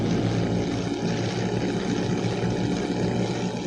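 Simulated Mitsubishi A6M2 Zero radial engine at full throttle during a takeoff run, a loud, continuous propeller drone holding steady throughout without any talk.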